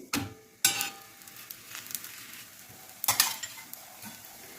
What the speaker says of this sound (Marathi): थोडंसं तूप लावून आपण मस्त चपाती खमंग अशी भाजून घेऊ